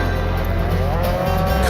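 Cattle in a herd low, with a long, loud sustained moo up close over a steady low rumble.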